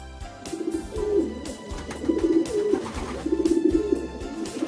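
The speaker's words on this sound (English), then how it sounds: "Pigeon" A pigeon coos in a soft repeated pattern, three low rolling calls close by over a faint background.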